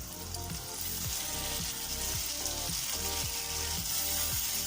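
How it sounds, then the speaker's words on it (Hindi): Taro root (arvi) coated in turmeric fries in hot oil, giving a steady, dense sizzle that holds at an even level throughout without any voices. "अब इसी ऑयल में यहाँ पर मैंने अरवी के अंदर हल्दी लगाकर अच्छी तरह से रख दिया था, ये शामिल कर दूँगी और इसको अच्छी तरह से फ्राई करेंगे।"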